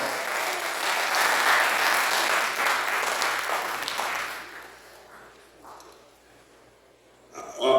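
A Rotary district conference audience applauds in a large room. Full, dense clapping holds for about four seconds, then dies away into quiet, with a brief noise at the very end.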